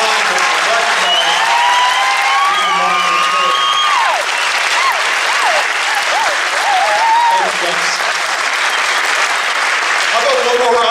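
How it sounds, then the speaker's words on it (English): Sustained, loud crowd applause at a school recognition ceremony for teachers, continuous dense clapping with cheering and whoops rising over it, and voices talking through the noise. "How about a nice round of applause for the teachers who've given up their time to recognize."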